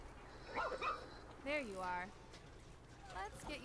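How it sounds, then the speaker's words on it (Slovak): Robot dog in ReCore giving several short barks and yips with a warbling, tonal quality, spaced across the clip over a low background hum. "Ježe, čo tam furt šteká?"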